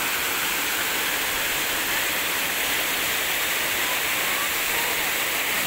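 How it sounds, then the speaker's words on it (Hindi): A waterfall on a hike roars as a steady, dense rush of falling water, loud and close, without a break. "आप देख सकते हो झरना ये,"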